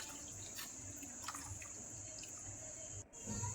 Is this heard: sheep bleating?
no